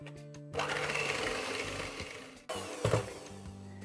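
An electric hand mixer beating egg yolks with sugar and vanilla sugar in a bowl, whirring loudly close up, pausing briefly, then starting again with a rattle against the bowl.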